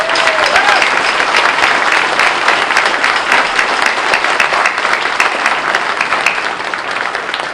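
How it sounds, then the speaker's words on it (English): A crowd at a town inauguration ceremony gives a big round of applause, loud dense clapping sustained for several seconds and easing slightly near the end. "Let's give them all a big round of applause"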